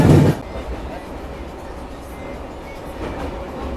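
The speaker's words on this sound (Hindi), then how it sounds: "अभी ट्रेन ने स्टेशन पे ही रफ्तार पकड़ लिया, करीब 50 से 60 किलोमीटर पर आवर की स्पीड पकड़ ली है" Vivek Express, an Indian sleeper-coach train, running at speed: a continuous rumbling rattle of the carriage after a brief louder burst at the start, with faint rhythmic clatter from the wheels.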